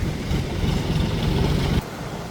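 Floodwater gushing through sluice gates at Muthaiyankattu roars loudly and steadily for a couple of seconds, then abruptly drops to a quieter wash.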